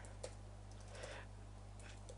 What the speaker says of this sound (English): I'm just going to type it out like this actually.